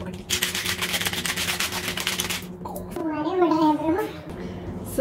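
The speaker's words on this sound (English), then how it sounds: "Now I'm going to shake it." A soda and watermelon juice mixture is shaken hard in a container, making a rapid rattling, sloshing burst for about two seconds, followed by a brief voice.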